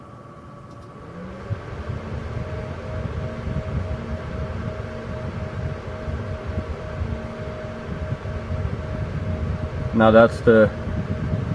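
An overclocked Gigabyte 7870 OC graphics card fan runs at full speed, giving a steady, close whooshing hum with a faint tonal whine that swells slightly. Someone talks over it.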